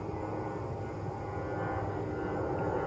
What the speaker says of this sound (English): there goes another nice sized plane.